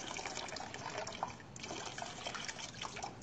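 Water sloshing and trickling inside a household gas cylinder that was filled with water instead of gas, a steady wet churning with faint drips heard alone at moderate distance.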